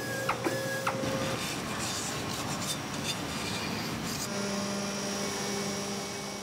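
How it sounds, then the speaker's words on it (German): Factory machine deburring drilled holes and edges on components, a steady whirring grind with tonal motor whines shifting in pitch and a few brief scraping ticks, continuous and fairly close. "Wie zum Beispiel hier beim Entgraten von Bohrungen und Kanten."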